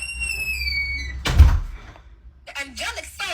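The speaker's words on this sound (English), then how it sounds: "And close my door." A door is pulled shut with a single solid thud partway through, set against a low room hum, with talking following soon after.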